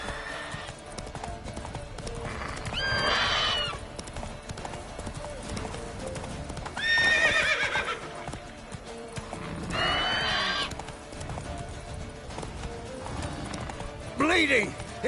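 Roach the horse gallops in The Witcher 3 with steady, rhythmic hoofbeats and several loud neighs and whinnies, while voices talk over the run.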